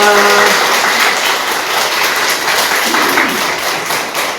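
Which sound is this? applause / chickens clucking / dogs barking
applause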